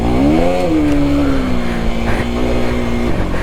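A KTM Enduro 390 R motorcycle engine drones while being ridden in second gear through off-road slides. The loud, close, steady tone dips briefly in pitch, then holds even.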